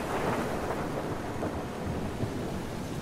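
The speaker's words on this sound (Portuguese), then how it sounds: "O barulho dos trovões aqui tá impressionante, galera." Thunder rumbling through a heavy storm in The Last of Us Part II, a continuous loud, broad roar with rain hiss underneath and no voices.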